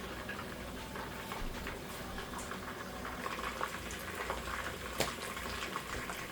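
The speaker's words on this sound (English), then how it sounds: "this chicken is sizzling up a storm" Steady crackling and hissing of chicken frying in hot oil, with scattered pops and spits throughout and no talking.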